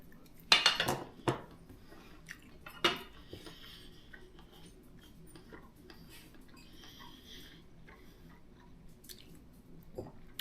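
A knife cuts a piece of cooked medium-rare rib-eye steak on a plate, with a few sharp clinks and scrapes of metal early on, then quieter faint taps and clicks.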